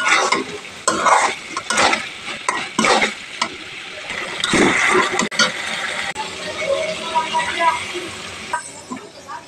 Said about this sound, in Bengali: ভালো করে নেড়ে চেড়ে কষিয়ে নিচ্ছি